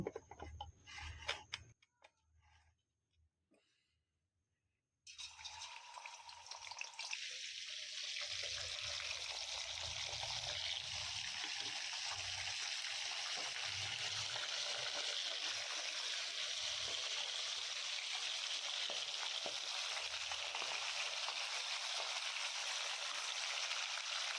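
Fish heads fry in hot oil, starting with a few quiet clinks and handling sounds, then erupting into a loud, continuous sizzle and crackle that holds steady for the remaining twenty seconds.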